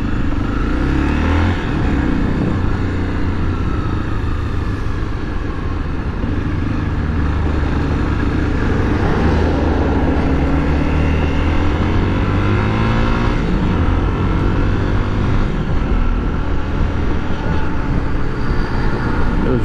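A motorcycle rides past close by amid steady road traffic, its engine note rising and falling as it goes by, loud and continuous with no talking.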